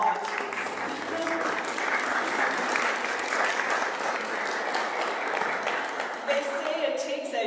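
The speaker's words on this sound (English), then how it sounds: "Yes, I think now is the time for everyone to get a round of applause." A church congregation applauds parish volunteers with sustained, even clapping across the whole stretch, while a few voices are faintly audible beneath the crowd noise.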